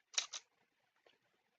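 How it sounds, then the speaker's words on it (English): A camera shutter fires during lens assembly on a workbench, two quick crisp mechanical clicks in close succession, then a fainter softer click a moment later, otherwise quiet. "And then fire the shutter."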